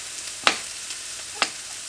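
Mushrooms fry quietly in a pan, a soft steady sizzle with two brief louder crackles, as if from stirring or spattering.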